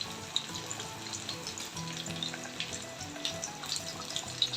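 A pan of fish gravy bubbles and sizzles steadily at close range, with soft popping and gurgling and no voices.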